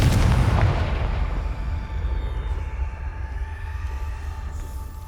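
A Confringo blasting spell explodes in Hogwarts Legacy, opening with a loud, deep boom that rumbles and slowly fades over several seconds.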